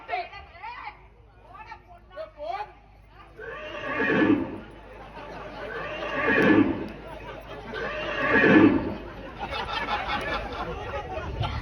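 A horse neighs and whinnies several times in a lively outdoor setting, with a louder drawn-out whinny rising and falling over chatter and children's voices nearby.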